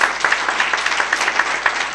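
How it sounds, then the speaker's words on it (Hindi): Dense, continuous applause from a seated audience at an astrology gathering in India, many hands clapping together at a steady, moderately loud level, filling the space without pause. "दो चीजें होती है तालियां बजाने से"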